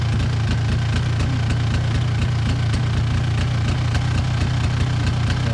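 A cold engine idling steadily, loud and close, with a constant low rumble and a faint regular knocking tick throughout, no voices.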